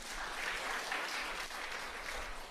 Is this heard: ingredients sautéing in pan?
no